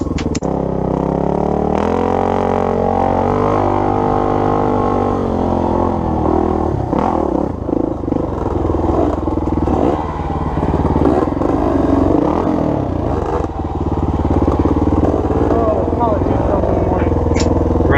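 An old Honda XR400 dirt bike engine runs steadily near the listener, a loud continuous idle with some clatter and scraping, with no talk.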